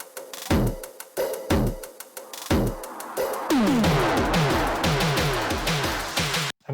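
An electronic music build-up with JST Heat saturation applied: punchy kicks and hits give way to a dense rising swell of pitch sweeps and distorted texture, loud and full, ending abruptly.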